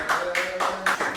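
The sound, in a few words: audience clapping for a candidate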